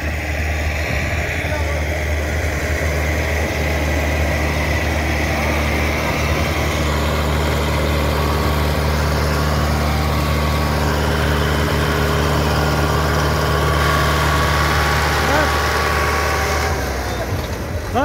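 A Massey Ferguson 385 or YTO 604 tractor pulling a double disk harrow in a field contest runs with a loud, steady low diesel drone throughout, while people talk over it.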